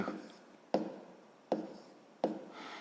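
A pen writes an answer by hand on paper during a sixth-grade maths exercise, heard as three sharp taps with scratchy strokes between them, close and quiet.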